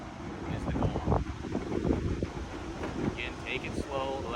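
Wind buffets the microphone beside a Starcraft pontoon boat at a dock, a steady rumbling gust noise with some faint water and boat sounds underneath, while a person talks throughout.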